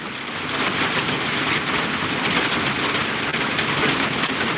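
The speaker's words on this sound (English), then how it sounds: "you're saying it's always sounding like it's raining in your live streams" Constant rain-like hiss during a live stream, a dense even patter with no breaks and no voices.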